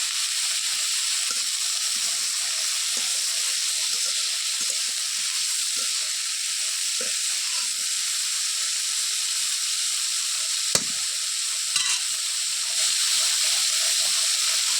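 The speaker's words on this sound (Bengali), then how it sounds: "আমি লাউয়ের খোসাগুলো দিয়ে দিলাম এখন আমি ওই তেলের মধ্যে এগুলো দিয়ে দিয়ে দেবো" Bottle gourd peels fry in hot oil with a steady, close, continuous sizzle and hiss. A few faint clinks and stirring sounds break in briefly, and no one speaks.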